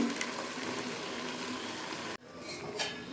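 Water poured into a cooker holding mutton browning with turmeric and onion, a steady close rushing splash that stops abruptly, followed by a quieter bubbling hiss.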